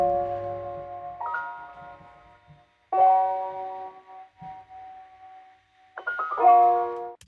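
Jazzy electric-piano chords from a Piano in Blue Kontakt instrument, played on a MIDI keyboard with a vintage-style treatment, ring out in three sustained clusters with small runs between them, clean and moderately soft with no talking.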